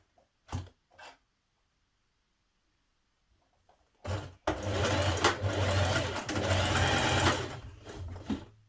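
A sewing machine stitches a pleat into a dress pocket, a couple of brief clicks and handling noises giving way to one sustained, close, humming run of needle strokes that slows near the end.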